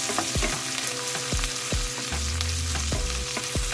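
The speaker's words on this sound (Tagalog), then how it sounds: "igisa lang muna natin saglit yung ating sibuyas" Onion sautés in oil in a pan, a strong continuous sizzle broken by several sharp spatula knocks against the pan at irregular intervals, close and loud with no talk.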